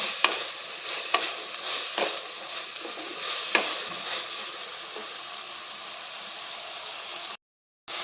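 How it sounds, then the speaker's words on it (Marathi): Onion, tomato and ivy gourd sautéing in a pan, giving a soft continuous sizzle with occasional sharper scrapes and clicks from stirring, close but fairly quiet, briefly cutting to silence near the end. "कांदा टोमॅटो तोंडली चांगले भाजून झालेले आहेत"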